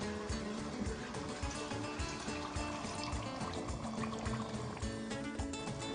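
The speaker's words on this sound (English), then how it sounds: "it's time to add your last water" Water poured into a pot of traditional lamb curry, a steady splashing, gurgling stream running close and fairly loud for the whole stretch, with no talk.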